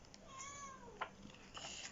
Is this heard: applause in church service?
no